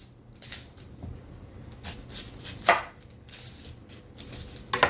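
A sweet Vidalia onion is chopped on a board, a series of irregular crisp knife cuts and thuds, close and moderately loud, with no talking.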